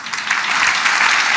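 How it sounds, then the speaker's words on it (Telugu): Loud, dense clapping from a church congregation, continuous and steady over a brief burst. "ఒక 10-15 మంచి చప్పట్లు కొట్టి ఆ తర్వాత ఆపేయండి"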